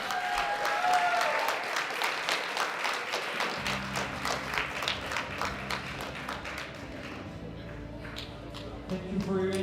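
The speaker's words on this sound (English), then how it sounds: "please, one last round of applause for the 53s and the 59 class" A crowd at a European sub-junior and junior classic powerlifting championship applauds the 53 and 59 kg classes. Dense clapping starts loud and full, then thins into scattered claps with some shuffling, while a voice talks through it.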